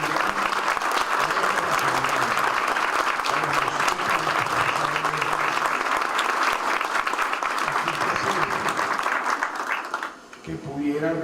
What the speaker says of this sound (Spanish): Eso merece para mí un gran aplauso